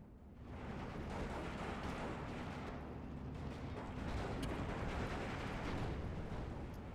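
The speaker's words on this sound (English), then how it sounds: "super artillery coming in" Steel Division II artillery fire in a 10v10 match: a dense, continuous roar of low rumbling blasts and distant booms that blend into a steady, heavy barrage throughout.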